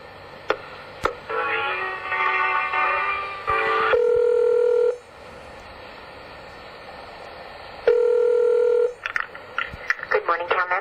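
Telephone keypad tones as a three-digit extension is dialed into a municipal center's automated phone system, heard as short steady beeps separated by pauses, alongside a ringback-like tone burst, clear and up close over faint line hiss.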